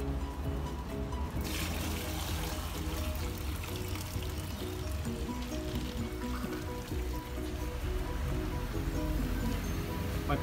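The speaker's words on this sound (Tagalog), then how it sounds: "haluan naman ito ng 8 liters ng tubig" Eight liters of water pour steadily into a fabric softener gel mixture, making a continuous splashing rush from start to finish.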